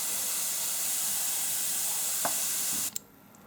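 Airbrush hissing out a steady spray of thick matte varnish flat coat, a continuous close, loud airy rush that runs unbroken for nearly three seconds, then cuts off abruptly with a small click, leaving quiet.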